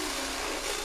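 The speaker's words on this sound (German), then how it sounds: "Zuerst wird an der Stelle, an der das Schloss angebracht werden soll, ein Loch gebohrt" A brief burst of harsh, grinding drilling noise as a hole is bored in sheet metal, loud and steady throughout, with no talking.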